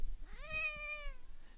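A single clear, drawn-out cat meow rises and then trails off, heard up close and alone with faint background hum.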